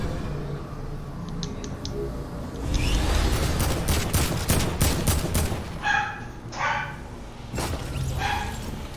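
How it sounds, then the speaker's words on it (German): Dog barking during a Fortnite match, sharp repeated barks mixed with loud game gunfire and effects, the barks clustered in short bursts toward the second half. "Muss denn dieser Hund bellen"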